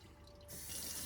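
A kitchen tap in a Sprinter camper van runs water through a 5-micron filter. A faint trickle swells into a steady, close rushing stream about halfway through.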